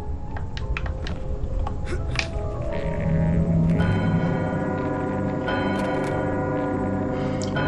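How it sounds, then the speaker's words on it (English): A bell rings repeatedly with sustained, overlapping tones that build and hang in the air, steady and fairly loud, with no talking. "Ring the bell, the bell,"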